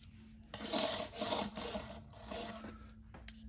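Tight wheels on a small toy skateboard from a NECA TMNT Turtles in Disguise figure set are spun, making a close, rough whirring rub over a low steady hum for a few seconds.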